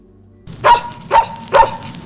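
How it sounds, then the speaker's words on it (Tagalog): A dog barks angrily three times in an even rhythm, loud and close, with no other voices over it. "Yung aso. Parang galit na galit."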